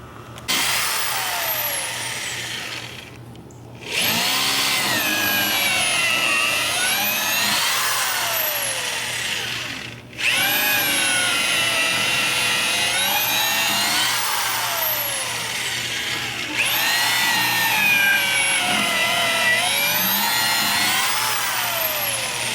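A power drill whines in three long bursts while drilling holes for a raised garden bed, its pitch sagging and climbing as it bores, loud and close, with short pauses between and no talking.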